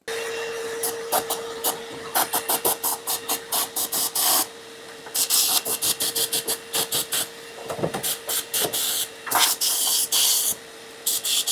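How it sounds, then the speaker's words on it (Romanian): Sharp, hissing bursts from a compressed-air blower clear rust dust out of a Mazda MX-5 NB body cavity, with a vacuum cleaner's steady whine running beneath. The close, loud blasts come in rapid, uneven pulses. "o să bag aspiratorul pe gaura asta și o să suflu cu ăsta pe sus ca să trag tot praf afară"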